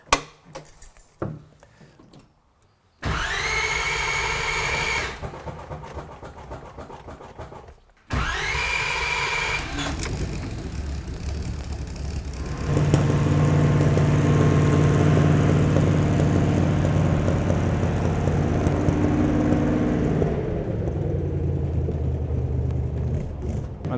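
An old vehicle engine rebuilt from a total wreck cranks in two short bursts, then catches and settles into a rough, steady idle that grows louder and fuller before easing off at the end.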